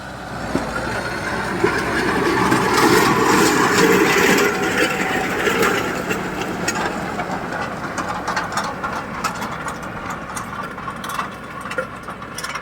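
A tractor engine runs steadily at 2000 rpm in four-wheel drive while pulling an 18 harrow. Its loud, continuous rumbling drone has a rattling clatter on top and holds fairly even throughout, with no voices.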